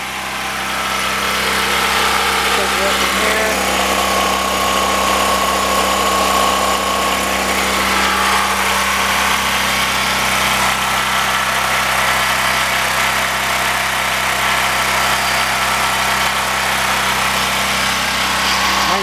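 A generator engine running on wood gas from a gasifier runs steadily at a constant low drone, loud and unbroken for the whole stretch with no voices.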